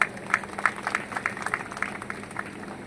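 Audience applause at a golden reunion celebration, scattered hand claps that rise into quick bursts and then thin out, moderately close, with no speech over them.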